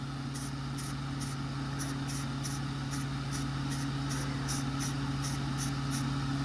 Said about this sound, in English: I'm going to shoot a little bit in the areas of the wood putty just to get it on there.